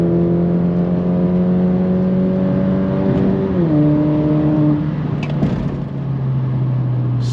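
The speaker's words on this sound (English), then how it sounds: "Watch the revs when I stab the gas." A 2.0-litre Alfa Romeo Giulia in race mode revs hard, its engine note holding a steady drone, dipping as it shifts, then settling lower and continuing loud and close.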